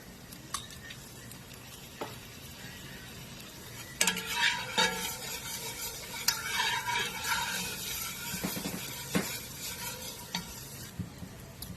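Vegetables sizzling in a pan with minced garlic for smothered pork chops, with a soft frying hiss, intermittent stirring scrapes and occasional utensil clinks against the pan; no talking.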